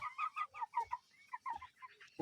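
A pied rooster, champion of the breed, clucking and calling close by in a series of short, bright bursts with brief pauses, ending in a louder call.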